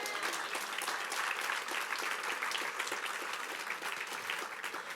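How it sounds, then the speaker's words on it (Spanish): Dense congregational clapping during a church service, a steady, continuous wash of many hands applauding at moderate distance with no talk over it. "¿Alguien se puede alegrar y darle un aplauso fuerte a Jesús?"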